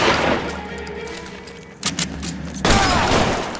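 Shotgun blasts ring out in a firefight in the video game L.A. Noire, loud booming reports with a quick pair of shots midway and another heavy blast near the end, over rumbling background noise.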